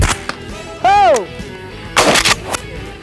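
Shotgun blasts while hunting, several sharp, loud bangs spread across a few seconds, with a rising and falling call between them and people shouting nearby.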